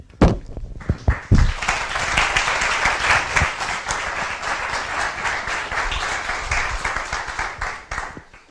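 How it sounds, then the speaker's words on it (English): An audience breaks into steady applause for a speaker at a history talk, starting with a few loud thumps and claps before settling into sustained, even clapping that fades toward the end. "For that encouraging round of applause, I ought to quit while I'm ahead."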